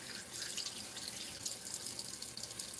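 Hands rinsed under a running kitchen tap, a steady close hiss of flowing water with small splashes and shifts as the hands move, alone without talk.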